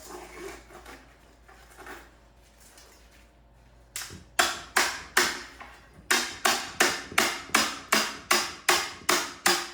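A hammer taps a tool wedged under a large tile being removed in one piece: after a quiet start, about a dozen sharp, evenly spaced knocks ring out close and fairly loud.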